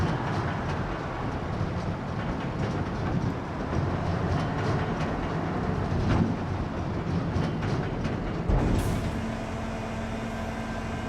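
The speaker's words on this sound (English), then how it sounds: "that train can go on through because I'm going down here" Steady rumble and clickety-clack of a passing train in Farming Simulator 25, rolling on evenly before a brief sharper burst near the end gives way to a quieter hum; no voices.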